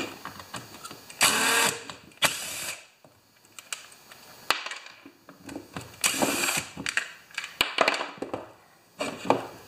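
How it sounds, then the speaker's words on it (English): A power driver removes bolts from a dead weed eater, sounding as several close, loud whirring bursts separated by brief quiet pauses. "a couple of more bolts to remove and we're going in the garbage"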